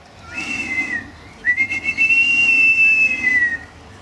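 A Yugambeh Aboriginal man whistles a high, piercing call, one short note then a long sustained rising and falling whistle, imitating a bird of prey.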